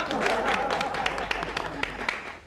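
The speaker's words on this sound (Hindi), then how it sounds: "तालियां" A short burst of clapping from a group, dense and steady, with voices mixed in underneath.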